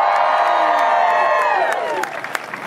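A crowd at an economic development celebration cheering and whooping together for Texas and Arkansas, a loud, dense burst of voices that rises and then thins into scattered shouts and claps.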